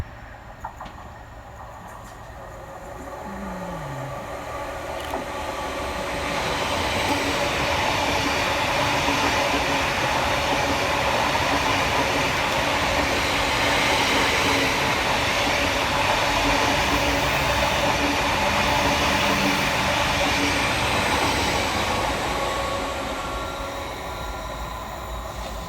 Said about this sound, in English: Passing fast through the station for Greater Anglia is 745-103, working 1 Bravo 52 from London Liverpool Street through to Stansted